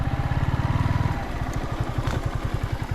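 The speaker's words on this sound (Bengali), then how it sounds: "বাইকটা এখানে রাখবো" A motorcycle engine runs close by in Netrokona with a steady low throbbing idle, its rhythm shifting slightly as it revs and settles.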